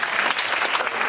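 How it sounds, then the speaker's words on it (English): A comedy club audience at a redneck comedy tour show breaks into brief, steady applause, a dense wash of clapping hands with no voices over it. "Was that a pity clap?"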